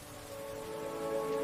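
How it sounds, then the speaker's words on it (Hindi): Rain falls in a village courtyard in rural Pakistan, a soft continuous patter that grows slightly louder, with no voices. "आज बारिश है, ज्यादा बाहर मत जाना, ठंड लग जाएगी।"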